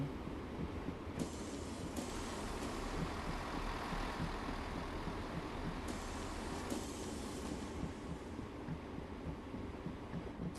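A passenger train runs in Train Sim World 2020, a steady low mechanical rumble and rolling hum held at an even level throughout, with no talking.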